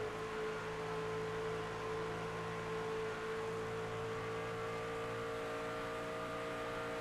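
Racing trucks in a Sportsman Legacy Trucks Series round lap Chicagoland Speedway, a steady engine drone with sustained tonal whine holding for several seconds at moderate distance, no talk.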